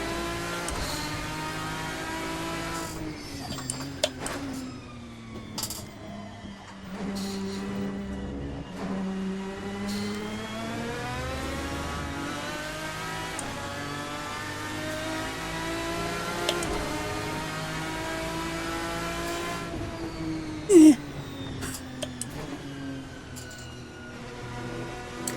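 A GT-M Lanzo V10 Evo2 race car in Assetto Corsa revs continuously through gear changes, its V10 engine note rising and falling with a steady throaty drone, loud and close, with no talk over it.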